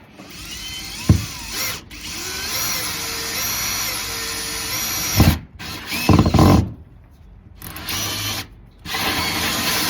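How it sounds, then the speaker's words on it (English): A power drill with a new hole saw cuts through a boat hull in several short bursts separated by pauses, with whirring motor tones, grinding contact and clunks between runs, close and fairly loud. "Bought myself a new hole saw, so we have a nice clean cut"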